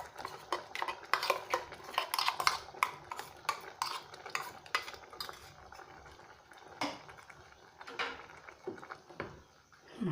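A spoon stirs masala paste into cabbage cooking in a pot, scraping and clinking against the metal in quick irregular strokes, busier at first and then sparser, with soft wet squelches between.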